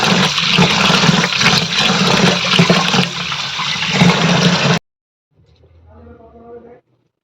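Rice and prawns being washed under running water, a loud steady gush and splash for about five seconds that cuts off abruptly, followed by a short quieter burst of water and handling.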